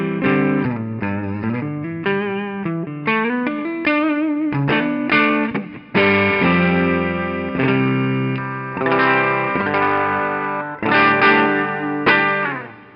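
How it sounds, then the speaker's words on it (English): Electric guitar played clean on the neck pickup through a boutique amp, miked up close, a melodic run of single notes and chords with sustained tones and short pauses, no voices. "Here is my clean tone on the neck pickup."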